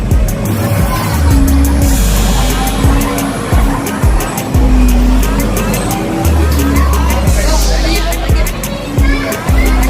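In a motorbike racing video game, the engine drones and revs in repeated rising and falling pulses, loud and continuous, with tyre screeches and some background voice murmur.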